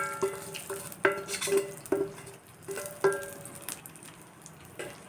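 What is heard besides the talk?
tempering poured into coriander chutney, sizzling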